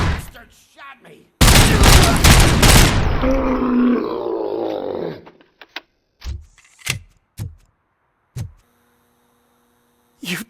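Heavy gunfire in the video game RoboCop: Rogue City, a loud sustained burst of shots lasting a few seconds, followed by several short separate impacts and a final shot near the end.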